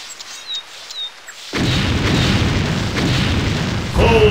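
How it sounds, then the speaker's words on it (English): Ship cannons fire a broadside in the video game Anno 1602: after a quieter opening, a heavy booming barrage erupts and rolls on, deep and loud, with another surge at the end. "Fire a broadside! Fire a broadside!"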